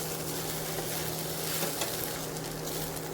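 Sabudana khichdi cooks in a pan with a steady, close sizzle and faint stirring scrapes running evenly throughout, with no voices.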